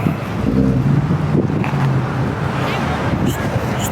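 An antique car engine idles and rumbles at an outdoor car meet, a low steady drone with some wind and passing traffic noise behind it, while people talk nearby.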